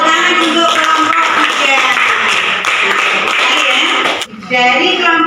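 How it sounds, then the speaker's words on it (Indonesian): Students in a classroom clap for a group that has just finished presenting, brisk loud clapping from many hands that stops briefly near the end and then resumes, with some voices mixed in. "Tepuk tangan untuk kelompok"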